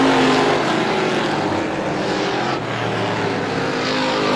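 Race cars roaring around the Star Speedway oval through turns one and two in a strictly stock heat, a dense, loud, continuous engine drone with no clear pass-bys.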